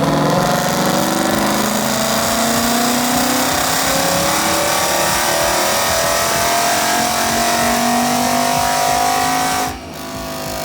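A Ford Mustang 5.0 engine runs up on a dyno in one long continuous pull, its tone rising steadily and loud up close before cutting off abruptly near the end.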